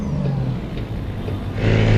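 A heavy truck engine in American or European Truck Simulator is blipped out of gear: a steady loud diesel drone that rises sharply in revs near the end, with no voices.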